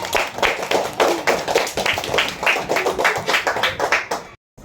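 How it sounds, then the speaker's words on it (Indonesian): Students in a classroom clap together in a quick, loosely rhythmic burst, close and lively, stopping abruptly near the end. "Tepuk tangan lah."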